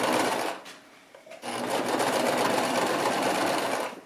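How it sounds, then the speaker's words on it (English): A sewing machine top stitches around a curved seam on a baby romper, a loud rapid whirring run, a short pause, then a longer steady stretch of stitching at close range. "Top stitching around it to hold it all in place."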